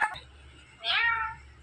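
A pet parrot imitates a cat's meow, giving a short call followed by a longer drawn-out mew, fairly faint and close, with low background hum and no talk.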